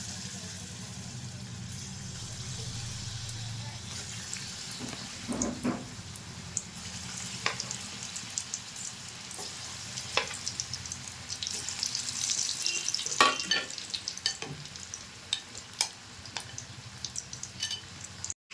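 Steady oil sizzling as potatoes deep fry in a wok, with a brief louder burst of crackling and occasional utensil clinks, no voices.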